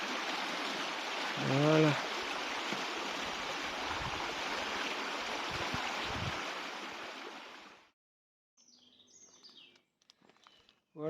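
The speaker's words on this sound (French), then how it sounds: "un petit cours d'eau sur le chemin" A small stream flows beside a woodland path in the Morvan, a steady close rush of water with a brief birdcall early on, then it cuts away to near silence and a short spoken word.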